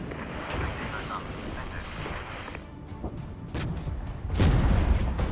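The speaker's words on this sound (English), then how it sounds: "We've already got artillery on the way over there." Artillery fire in the Cold War strategy game Regiments booms in scattered distant blasts beneath a steady battle rumble, ending in a louder, closer impact, while a player talks over it.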